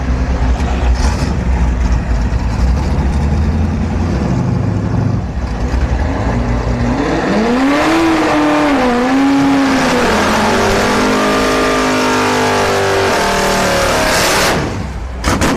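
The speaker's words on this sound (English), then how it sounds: "this is like a first gen Camaro against the C6 Corvette" At a drag strip, a nitrous first-generation Camaro races a C6 Corvette, engines roaring loud and continuous as they rev and rise in pitch through gear changes before the noise fades at the end.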